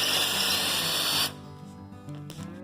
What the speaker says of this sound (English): Get it drilled,